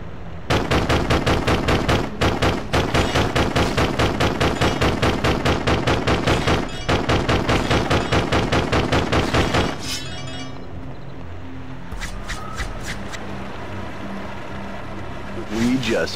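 Rapid gunfire from weapons in the video game Death Jr., loud dense bursts of shots in quick rhythm for about nine seconds, then quieter game ambience with a few scattered clicks and taps.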